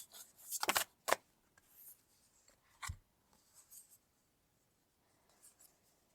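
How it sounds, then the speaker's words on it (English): Tarot cards are drawn from a deck in a quiet room, making a few short, close rustles and papery snaps with faint shuffling between them. "I'm going to draw some cards to go with it"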